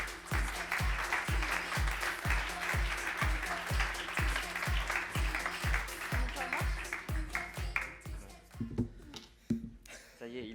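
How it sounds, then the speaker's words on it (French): Applause from an audience at a French professional seminar on cyber threats, greeting a participant as he joins the stage; steady rhythmic clapping for about eight seconds that then thins into scattered claps while voices murmur. "On peut l'applaudir également."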